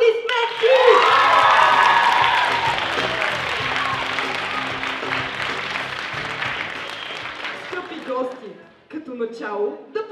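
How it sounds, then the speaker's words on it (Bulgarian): Loud applause and cheering from a crowd at a school stage event honouring the leader of a dance troupe, sustained clapping with shouts and whoops, then fading as a voice speaks near the end. "Аплодисменти!"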